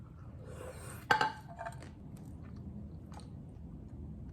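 Chewing and biting on a homemade dish during a taste test, with a sharp crunchy bite near the start followed by softer, faint mouth sounds and a light clink, no talking.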